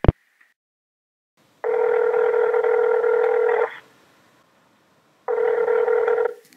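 A landline telephone gives a short click and brief tone, then two long, loud steady dial-type tone bursts separated by silence, heard alone without talk.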